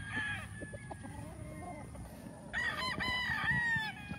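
Chickens on a farm, with a rooster crowing twice, a short faint crow early on and a louder, longer one later, over scattered clucking and background chatter of other birds.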